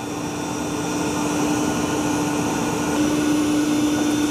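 A robot vacuum and mop cleans carpet with its mop pads lifted, producing a steady, loud motor whir and airflow hiss with a constant tone, close and unbroken throughout, with no talking.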